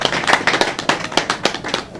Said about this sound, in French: Je voudrais que toute l'assistance les applaudisse